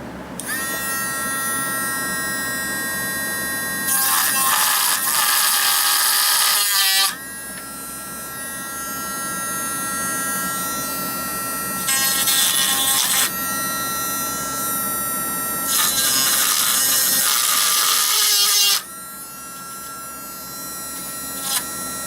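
An end mill bit in a drill slots a plastic part for a Mavic Pro dual battery modification: a steady high-pitched motor whine with several louder grinding cutting passes of a few seconds each, close up, no speech.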